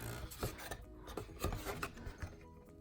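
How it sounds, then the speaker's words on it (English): Adhesive gift box paper corners are rubbed together in short, close rasping strokes, repeated irregularly and without talk. "So you want to line up this corner here with this corner here and just rub it together."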